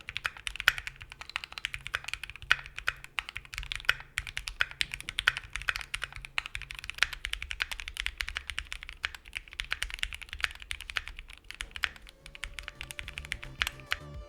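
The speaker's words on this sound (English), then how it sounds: "Here's the board without any mods and looped Keychron black inks on the stock aluminum plate and then" A Keychron Q2 mechanical keyboard with a polycarbonate plate and Keychron black ink switches is typed on steadily, producing soft, dense clacks in a quick continuous rhythm, close and alone without talk.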